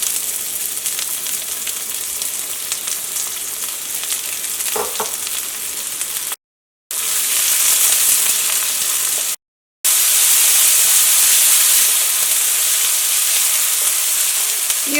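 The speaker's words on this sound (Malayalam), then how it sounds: "ഓയിൽ നന്നായിട്ട് ചൂടായിട്ടുണ്ട്. ഇതിലേക്ക് നമ്മൾ കട്ട് ചെയ്ത് വെച്ചിരുന്ന സവോള ഉണ്ടല്ലോ," Chopped onion fries in hot oil in an iron pan with a continuous loud sizzle and crackle, interrupted by two brief cuts of silence, and grows fuller after the first break. No talking is heard.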